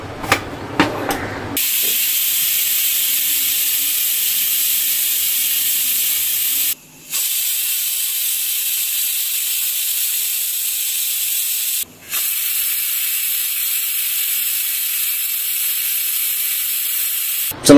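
Steady, loud pressure-cooker steam hiss while shevla (dragon stalk yam) vegetable cooks with tamarind and jaggery, a continuous rushing jet broken by two brief pauses and no talk.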